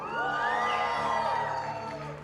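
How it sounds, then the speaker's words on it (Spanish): A church congregation lets out a loud, sustained shout of joy, many voices whooping and cheering together in a dense wave that swells and then slowly trails off. "¿Cuántos se atreven a darle un grito de júbilo al Señor?"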